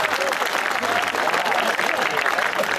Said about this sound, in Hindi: तालियां आप ठीक से नहीं बजा रहे,